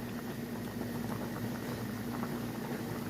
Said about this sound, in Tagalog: Kunting kulo na lang po.